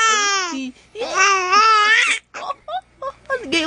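A baby babbles loudly in long, wavering, sing-song vocal runs, then breaks into shorter bursts and squeals, close and unaccompanied.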